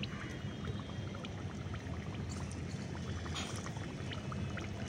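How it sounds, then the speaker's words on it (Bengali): Biscuits frying gently in warm oil over a very low flame, giving a steady, dense crackle and sizzle that carries on evenly throughout with no talking. "এখানে আমি বিস্কুটগুলো তেলের মধ্যে দিয়েছি, আর এখন একদম হালকা আঁচে বিস্কুটগুলো ভাজতে দেব"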